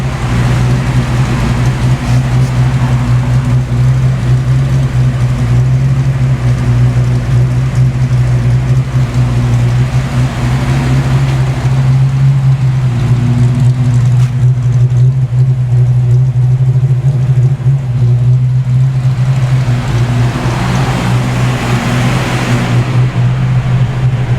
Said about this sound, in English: I seem to make an improvement, but still got a hunting idle to a certain degree here.